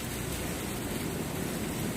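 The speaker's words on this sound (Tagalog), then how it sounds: "Napalakas ng ulan, malakas na hangin." Heavy typhoon rain and strong wind make a dense, constant roar of pouring water and gusting air, loud and unbroken from start to finish, with no talking.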